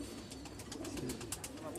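Pigeons bred as long-flying sport birds cooing and calling steadily at close range, a soft continuous murmur of several birds with faint chirps over a low rumble of background noise.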